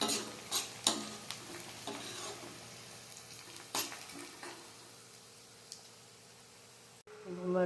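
Onion and green chillies fry in a pan with a soft, continuous sizzle, broken by several sharp scraping clicks of a spoon stirring against the metal.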